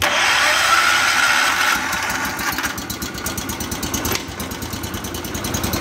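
The engine of the 210, just repaired, settles from a rough, noisy start into a steady, loud idle with a quick, even pulsing rhythm close by.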